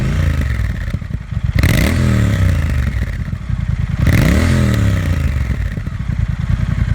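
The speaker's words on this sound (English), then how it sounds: "but listen to this exhaust" A Triumph Speed Twin motorcycle's exhaust roars loud and close, with two sharp rev blips rising and falling over a steady rumbling idle.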